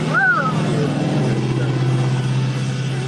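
A loud car roars past close by, its engine hum and road noise filling the whole stretch steadily, with a brief voice near the start.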